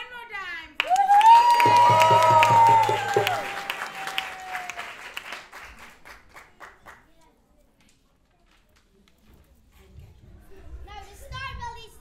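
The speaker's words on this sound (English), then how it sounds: "Please clap one more time." A theatre audience at a children's stage production of The Sneetches claps and cheers loudly, with a sharp voice or whistle cutting through, before the applause dies away to quiet and young voices return.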